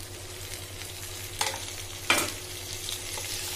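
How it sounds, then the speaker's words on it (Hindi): Vegetables and paneer frying in a pan as they are stirred, giving a soft continuous sizzle broken by two sharper scraping clatters of the spoon against the pan. "ये हमारा पनीर मिक्स हो गया अच्छे से, अब हम इसमें हमारी वेजिटेबल्स को डालेंगे"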